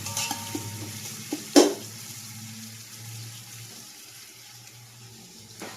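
Food sautés in a pan with a quiet, steady sizzle, broken by one sharp clatter of stirring early on and fainter utensil scrapes, with no voices.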